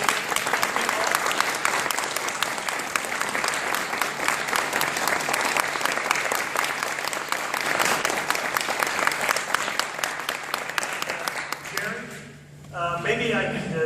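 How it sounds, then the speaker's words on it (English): A hall full of people claps steadily and warmly for the Christmas dinner helpers, dense sustained applause from a close crowd that fades out near the end as a voice begins. "give a good round of applause to all of those that have helped and set up today's"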